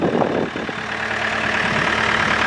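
A 66-horsepower Yanmar diesel on a 2014 Takeuchi TB285 excavator runs at a steady idle, a close, continuous low rumble with no pauses.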